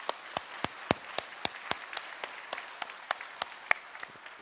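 A church congregation claps together during a special dawn prayer service, steady rhythmic hand clapping in a reverberant hall, moderately loud and without speech.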